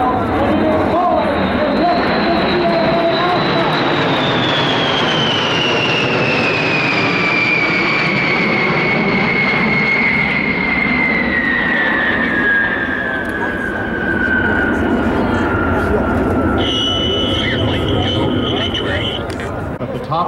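Northrop, Rockwell and Boeing bombers fly past at the EAA AirVenture 2017 airshow, their loud jet roar rising and then falling away in pitch as they pass. An announcer talks over the noise.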